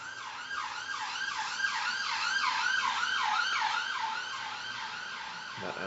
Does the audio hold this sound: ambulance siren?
yes